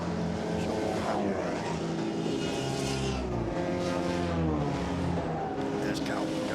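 A Le Mans Cup race car howls past during a 2022 race start, its engine note rising and then dropping in pitch as it goes by, over a continuous background of other engines, with a commentator talking throughout.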